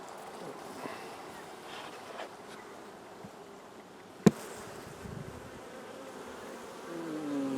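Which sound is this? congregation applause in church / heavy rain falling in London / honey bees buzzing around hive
honey bees buzzing around hive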